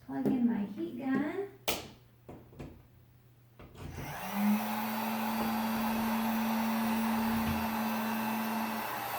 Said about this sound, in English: now I'm going to turn my heat gun on to low so that we don't melt the vinyl